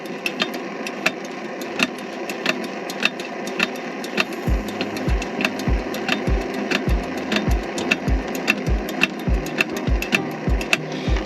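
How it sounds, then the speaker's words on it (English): The small hand pump of a paraffin picnic stove is worked in a quick, even rhythm, each stroke a sharp close click and a low thump repeating over a faint steady background. "Using this tiny pump, we'll thrash some air in it"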